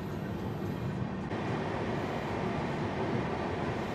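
Paharia Express LHB coaches roll over the Mahananda river bridge, a dense, even rumble heard from inside the train.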